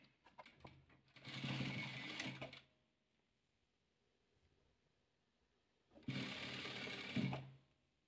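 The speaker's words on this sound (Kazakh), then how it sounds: "Міне енді осы тіккенімізді үшінші қатарын осыған осылай қаратып тігіп аламыз." A sewing machine stitches rows of patchwork quilt pieces: two sustained bursts of rapid, even mechanical whirring a few seconds apart, close but fairly quiet, with a near-silent pause between them and no talking.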